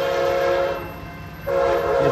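A four-car Amtrak San Joaquin passenger train led by an F59PHI locomotive blasts its horn twice at Antioch/Pittsburg station, loud and near, with a brief pause between the long blasts and rail noise underneath.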